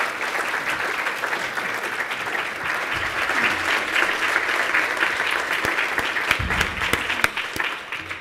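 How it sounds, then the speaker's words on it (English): A dense, steady round of audience applause for a discussion panel fills the room, holding at an even, full level for about eight seconds with no talk over it. "Let's give a big round of applause to our panel."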